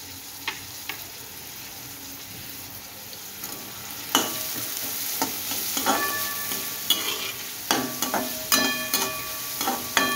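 Chopped onion and green chili sizzle steadily in a pan, with occasional scraping stirs and light clinks of a utensil growing busier over time; no one talks.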